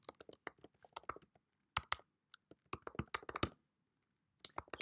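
Bursts of keystrokes clatter on a computer keyboard while a title is typed into a WordPress page, quick irregular clicks in clusters separated by short pauses, close and fairly quiet.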